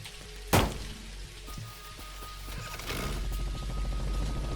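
Rain in the video game Dinkum: steady pattering rain with a sharp thump early on and a few soft clicks of game mechanisms, rising slightly toward the end, with no voices.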